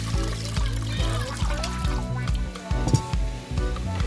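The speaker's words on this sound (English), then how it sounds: "Wash the rice." Water sloshes and swishes as rice is rinsed in a pot outdoors, a close, continuous wet stirring with short pours and drips over backing music.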